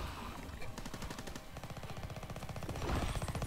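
Rapid automatic gunfire in Call of Duty WWII, dense continuous bursts of machine-gun shots that keep up throughout and grow louder toward the end.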